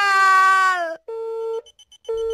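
An electronic telephone busy signal sounds close and clear: a long wavering beep, then short repeated beeps separated by brief silences.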